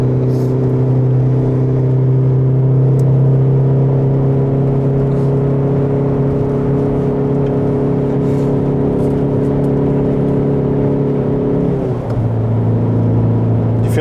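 A petrol-engined car on the Nürburgring circuit, running in another car's slipstream, drones under sustained acceleration, its engine note holding and rising loudly from inside the cabin before a brief shift near the end.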